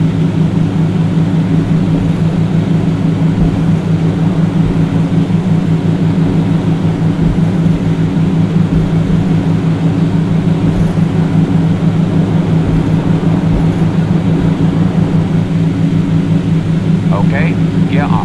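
Twin engines of a DA42 aircraft run at full throttle in a flight simulator game, a steady loud droning hum that holds throughout.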